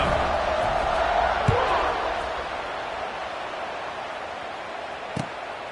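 A football stadium crowd just before a kickoff, after an extra point made it 7-0, sends up a broad, steady roar from a distance, with a couple of brief dull thuds.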